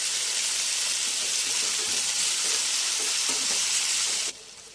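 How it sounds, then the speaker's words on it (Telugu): Cashews, mint, coriander and tomato fry in a hot pan for an egg curry, giving a steady close sizzle with a faint stir now and then that holds level and then cuts off sharply near the end. "ఇవన్నీ కూడా పచ్చివాసన పోయేంత వరకు టమాటా మగ్గేంత వరకు వేయించుకోవాలి"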